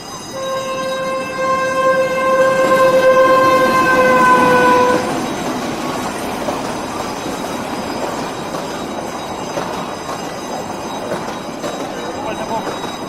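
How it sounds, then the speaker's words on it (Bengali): A train pulls in with a loud sustained horn blast for about five seconds, then a steady rolling rumble of railway cars continues on its own. "ট্রেন এসে গেছে, আমি তাকিয়ে আছি ট্রেনের দিকে।"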